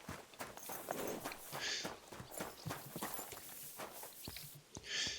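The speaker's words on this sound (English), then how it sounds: "Hello, my horse." A horse in Kingdom Come: Deliverance clip-clops at a walking pace, its hooves striking in a steady rhythm at moderate volume, with brief snorts and game sounds in between.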